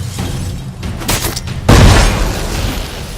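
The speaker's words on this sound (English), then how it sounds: "Throw a bomb." A bomb blast in The Witcher 3 game erupts as a sudden loud boom midway, leaving a rumbling wash that lingers to the end, after a quieter stretch with some brief bursts.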